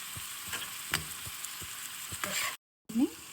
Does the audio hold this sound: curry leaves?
yes